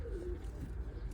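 A pigeon in a loft gives a single soft, low coo, faint against a quiet background.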